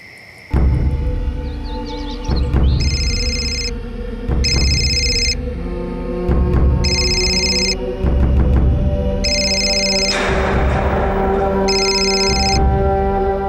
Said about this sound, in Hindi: फोन क्यों नहीं उठा रही हो तुम?